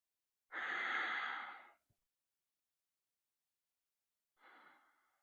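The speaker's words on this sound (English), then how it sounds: "Breathing here." Breathing during a slow-flow yoga pose, one long audible exhale like a sigh followed by a shorter softer breath a few seconds later, close and quiet with silence between.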